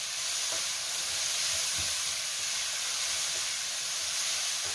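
Mushrooms stir-fried in a pan give a steady, even sizzle and hiss with a few soft stirring knocks, close and moderate in level, with no voices.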